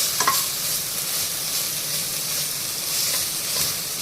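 Bottle gourd frying in ghee while being stirred, a steady close sizzle with a few sharper scrapes of the spoon, no voices.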